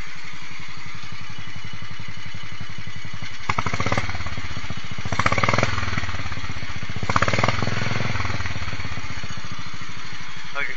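A small engine idles with a steady rapid chug, then revs up loudly three times, each rise falling back to idle, recorded up close outdoors.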